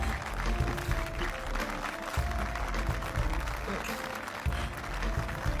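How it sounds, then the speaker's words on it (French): A seated audience applauds Ivana Duval, a round of clapping that runs at a steady level with a few voices and some background sound mixed in. "veuillez applaudir bien fort Ivana Duval"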